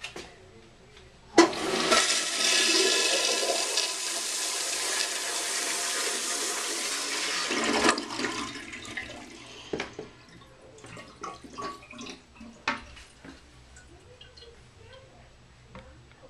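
A late-1980s Kohler Wellcomme toilet flushes with a loud, sudden rush of water lasting several seconds, then drops to a quieter trickle and hiss as the tank refills, with small clicks and drips.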